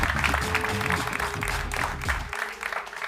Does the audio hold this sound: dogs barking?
no